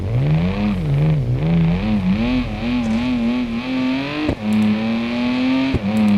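Simulated BMW E30 engine in a lightweight body in BeamNG Drive, loud and close, its pitch wavering up and down through repeated revs, then holding a high steady drone with two brief shift-like dips.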